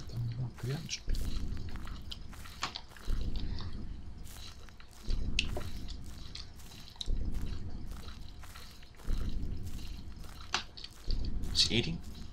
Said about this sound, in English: Why is my walking sound like I'm eating a crackers or like something crunchy?